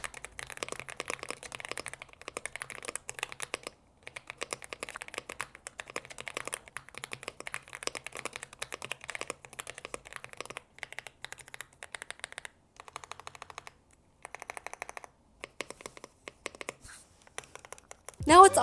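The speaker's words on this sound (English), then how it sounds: "Let's do a typing test." Typing on an Epomaker x Aula F65 budget hot-swap mechanical keyboard, a fast, steady stream of close, fairly muted key clacks with brief pauses, quiet throughout.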